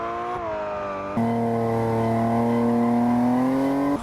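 A car engine revs hard during drifting practice, a loud steady drone with a sudden jump in pitch after about a second that then holds and rises slightly; no tire squeal is clear.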